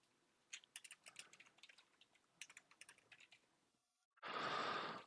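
Typing on a computer keyboard, bursts of quick soft key clicks in irregular runs, close and quiet, followed by a short loud burst of noise at the end.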